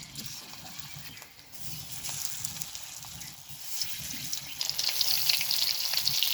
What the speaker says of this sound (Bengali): হাতে মাখানো চিংড়ি মাছটা এবার এক এক করে তেলে দিয়ে দিব